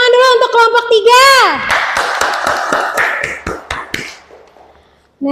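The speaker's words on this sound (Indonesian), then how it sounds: "Tepuk tangan dulu untuk kelompok 3." A classroom of students claps for a student group during an Islamic religious education lesson. A teacher speaks first, then a burst of scattered, fairly close hand claps fades out over a few seconds.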